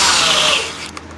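A power drill runs with a loud whirring whine that winds down within about a second, ending in a small click.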